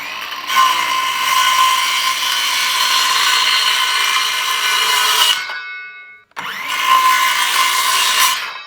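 Plastic pipe being cut with a pipe cutter, giving a loud, steady mechanical grinding rasp up close that runs for about five seconds, stops briefly, then starts again for a couple more seconds.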